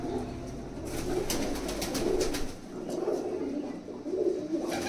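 Pigeons coo softly in a loft with a male and female pair, low repeated murmuring calls close by that rise and fall in short waves over steady background noise.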